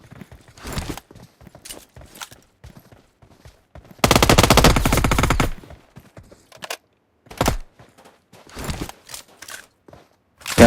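A long, loud burst of rapid gunfire roars for about a second and a half, surrounded by scattered shorter pops and thuds at a quieter level.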